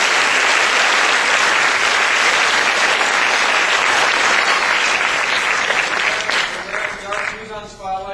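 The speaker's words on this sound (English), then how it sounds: "So once again, please give them a round of applause." Audience applauding at a theatre show, a dense, loud, sustained burst of clapping that fades out toward the end.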